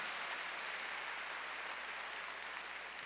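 Church congregation clapping at a Wednesday worship service, a steady, even wash of applause sustained throughout, faint and somewhat distant.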